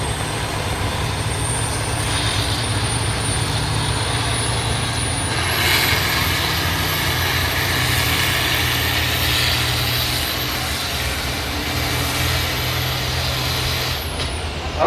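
Antique International tractor at a tractor pull on the Agrigold track, its engine roaring loud and steady throughout, a high whine climbing partway through and holding, with no talk over it.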